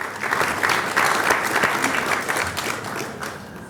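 Applause from an audience at the Bahamas Business and Investment Forum in New York, a dense, steady round of clapping from a crowd that holds at a loud, even level throughout.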